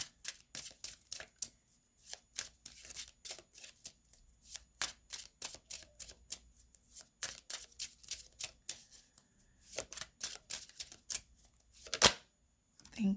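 Tarot cards riffle and snap in quick dense bursts, close to the mic, with brief pauses between runs and one sharper clatter near the end.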